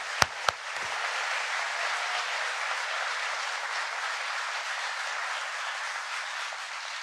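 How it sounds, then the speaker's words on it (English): Sustained audience applause fills the room at a steady, dense level, opening with a couple of sharp isolated claps before the crowd settles into continuous clapping with no voices. "Please give them a round of applause."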